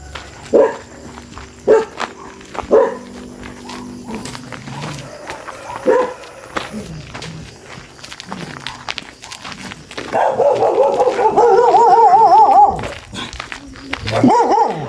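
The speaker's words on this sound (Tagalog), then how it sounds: "Mga aso." Dogs bark in sharp intermittent bursts, fairly close, with footsteps and shuffling around them and a stretch of higher whining yips in the middle.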